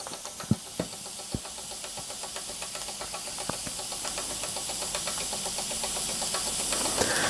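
A 1950s Mamod Minor 2 model steam engine, mainly brass with a flywheel, runs smoothly with a steady hiss and a faint, even rhythmic ticking, punctuated early by a few sharper knocks.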